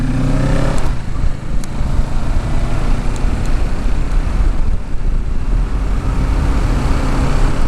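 A motorcycle rides along a road in second gear, its engine a loud, steady close-up drone mixed with wind rush and road noise throughout.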